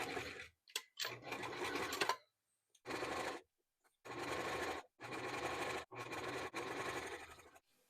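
A sewing machine stitches a zipper seam on a quilted pencil case, running in several steady whirring bursts of one to two seconds each, separated by short pauses, close and loud with no talk.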